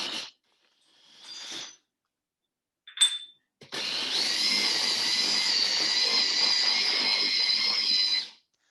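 A kitchen blender whirs steadily for several seconds while blending salmon, after a few short pulsed bursts separated by silence, fairly loud and close.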